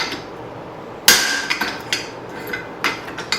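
A hammer strikes a hot axe-hatchet blank on an anvil during forging, one loud ringing blow followed by a series of lighter, irregular metallic taps, close and clear with no talking.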